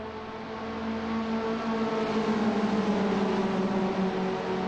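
Open-wheel race cars of the Skip Barber series at Imola in a racing sim, engines droning steadily side by side with sustained tonal whine, close and continuous with no talk.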